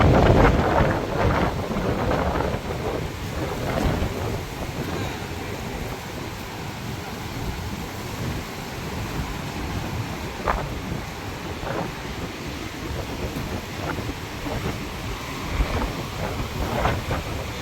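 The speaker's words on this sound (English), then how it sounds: "Wind's pretty strong now I'm next to the beach." Strong wind blows steadily beside a beach in Da Nang, Vietnam, a constant loud rushing roar with gusty buffeting against the microphone and no speech.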